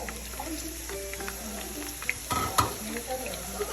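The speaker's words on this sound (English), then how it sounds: "let the onions fry for some time" Onions fry in red palm oil for vegetable soup with a soft, steady sizzle and a few sharper stirring clicks and scrapes near the end, close by.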